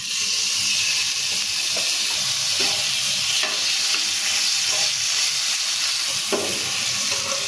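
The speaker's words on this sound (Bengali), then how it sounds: "এখন আমি চিকেন রোল খেতে ইচ্ছা করছে, তাই ম্যারিনেট করে রেখেছি। এখন আমি ভেজে নেব।" Marinated chicken for chicken rolls fries in a pan with a steady, loud sizzle. Occasional soft scrapes of stirring sound close by, with no talking.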